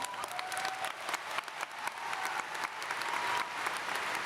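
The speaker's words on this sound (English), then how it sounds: "Let's give him a round of applause." Graduation ceremony audience at Lone Star College CyFair applauding a first-generation graduate, a broad, sustained clapping from a large crowd in a hall with scattered sharp claps throughout.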